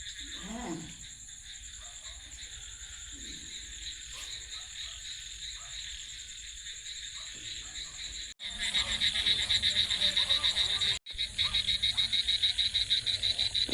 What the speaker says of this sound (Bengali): ঝিঝি পোকার ডাকগুলো শুনুন